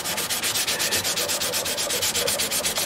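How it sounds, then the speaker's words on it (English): 3M sandpaper rubbed briskly back and forth on carpet to clean it: a close, steady, rasping scrub in quick, even strokes with no pauses. "whenever you want to clean your sandpaper, you just wipe it on the carpet"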